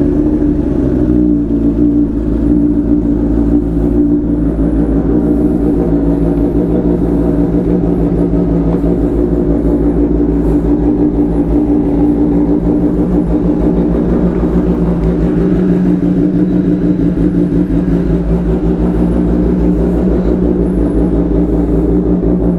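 A superbike engine idles and revs while warming up at low power, a loud, close, steady rumbling drone with slight swells in pitch, running continuously without talk.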